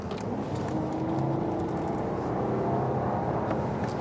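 A 2023 Mercedes-Maybach S680 with its V12 engine accelerating, heard from inside the cabin as a steady, muffled engine drone under road and tyre noise, without speech.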